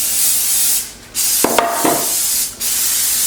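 Cooking spray hissing from a can onto baking pans in a home kitchen, a long loud spray, a pause, then a second burst with light clatter of pans and a short final spray.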